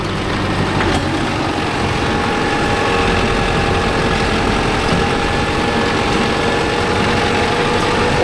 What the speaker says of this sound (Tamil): கிளச்சு கொஞ்சம் லூஸ் விடணும் ப்ரோ, கிளச்சு சவுண்டு வேறு வருது.